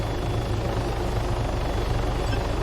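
A helicopter in Arma 3 thrums with a steady rotor chop and engine whine, continuous and fairly close throughout the short stretch.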